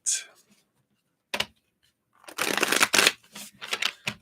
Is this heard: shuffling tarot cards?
yes